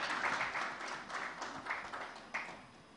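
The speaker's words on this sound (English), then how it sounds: "A big round of applause for the esteemed panel on stage." Audience at the elets PSU Summit & Awards 2015 applauds a panel on stage, a faint, dense wash of many hands clapping from a distance that holds steady and tapers slightly toward the end.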